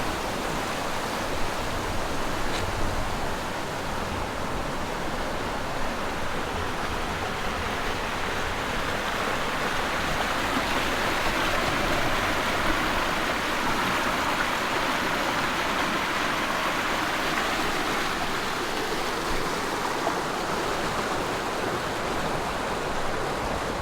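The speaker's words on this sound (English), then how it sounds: "Fresh mountain water." Continuous rushing water from a mountain stream in the Rockies, a broad steady roar like a stream tumbling over rocks, close and unbroken throughout.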